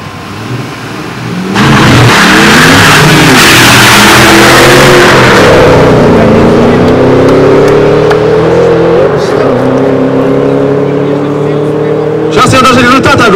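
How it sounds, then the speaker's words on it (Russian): Two legendary cars, a Bullet and a Shelby, rev hard and accelerate, their loud engine roar climbing in pitch and holding steady for about ten seconds before a sharp burst of noise at the end. "Две легендарные машины, Bullet и Shelby."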